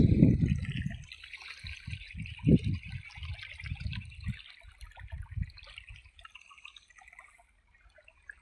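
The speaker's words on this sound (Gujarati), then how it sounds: "પાણી ચાલુ થઈ ગયું છે" Water from a tap in a village farm setting trickles and drips close by, starting with a stronger rush and then thinning into a light, uneven dribble with no talking.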